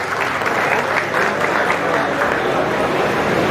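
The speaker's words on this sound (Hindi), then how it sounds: "उनके लिए जोरदार तालियां।" Loud, steady applause from a large audience at a community association gathering, dense continuous clapping filling the hall for several seconds.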